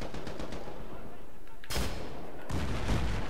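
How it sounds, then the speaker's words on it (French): Battlefield 3 gunfire: rapid weapon shots crackle in the first half, then two heavy, booming blasts hit close and loud. "j'ai tiré sur un véhicule à moi"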